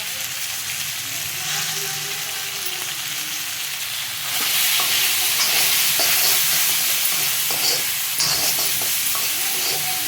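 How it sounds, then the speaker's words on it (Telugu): Mixed vegetables for mixed vegetable fried rice cook in a hot tempering in a pan, giving a steady close sizzle that grows louder and brighter partway through, with occasional stirring scrapes. "తాలింపులో వేసేసి ఇవన్నింటిని ఒక 10 నిమిషాలు మంచిగా కుక్ చేద్దాం"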